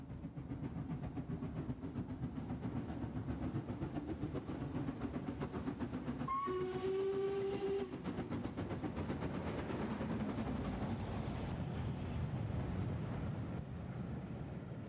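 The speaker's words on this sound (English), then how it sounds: "the engine completes the 1 in 94 westbound climb between the tunnels at Sapperton, slipping just before the summit" Steam locomotive Lizzie labouring up the 1 in 94 westbound grade between the Sapperton tunnels, a dense steady chuffing roar with a brief whistle-like tone partway through and slipping near the summit.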